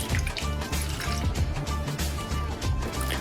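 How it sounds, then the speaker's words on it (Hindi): Milk is poured from a cup into a bowl of sauce and spices, giving a steady, close liquid gurgle with soft splashy bubbling. Background music plays underneath. "1 कप इसमें दूध ऐड कर दूंगी मैं ये"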